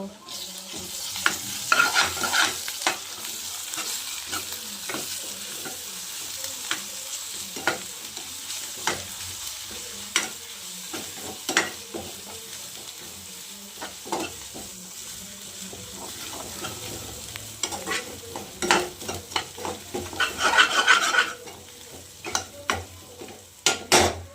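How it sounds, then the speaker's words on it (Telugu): Ginger garlic paste sizzles loudly in a frying pan while being stirred, steady frying hiss broken by frequent scraping clicks of the spoon, close and with no talk. "అల్లం వెల్లుల్లి పేస్ట్ వేసుకోవాలండి"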